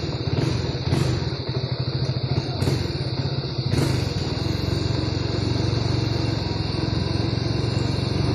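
A motorcycle rolls downhill on a road in first gear under engine braking, its engine humming with a steady, loud, close drone and a few sharp clacks in the first seconds.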